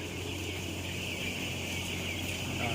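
Dense chatter of many fowl in a crowded house, a steady continuous wash of clucking with a low constant hum underneath.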